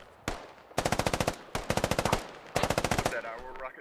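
Video game machine gun laying down suppression fire in three long automatic bursts separated by short pauses, each burst a rapid, even string of loud, close cracks.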